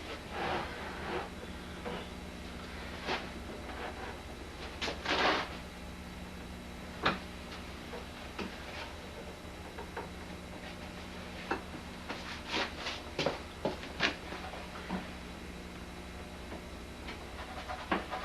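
A hand sander runs over a wooden workpiece in a home workshop, a continuous hissing buzz with faint scraping and occasional knocks, fairly quiet and steady throughout.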